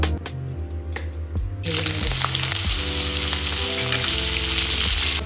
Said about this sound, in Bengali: এখানে ফুলকপি ভাজা অলমোস্ট হয়ে গেছে